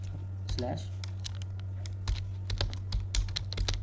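Quick irregular keystrokes clatter on a computer keyboard while code is typed during a Django setup, close and crisp, with a brief voice near the start.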